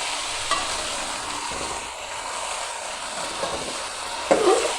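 Spicy potato bhujia being stirred with salt in a pan makes a soft continuous frying hiss, broken by a few light scrapes and one sharper clatter of the spoon near the end, with no talking.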